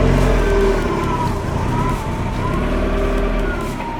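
A Mazda Miata backing up, its engine idling loud and close with a steady low rumble and faint rising whine as it creeps in reverse.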